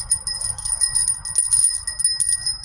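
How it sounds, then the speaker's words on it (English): Metal wind chimes on a porch ringing in clear, sustained tones, with overlapping tinkles and strikes repeating steadily and close by, alone without talk. "it's so nice when these are all chiming on a windy day"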